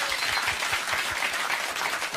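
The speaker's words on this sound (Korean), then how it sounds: "박수 한번 보내주시기 바랍니다" Audience in a studio seating gallery applauding together, a steady, dense wash of many hands clapping at once that holds for about two seconds without a break.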